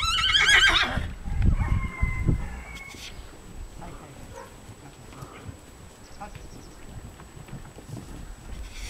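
Horses neigh loudly at the start, with a shrill whinny up close, then run off as fainter rustling and movement. People speak throughout.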